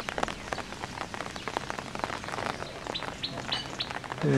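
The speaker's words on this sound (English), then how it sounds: "it's been raining for the past hour" Steady rain patters on a surface in Africa with scattered drips, while a few birds chirp faintly in the background.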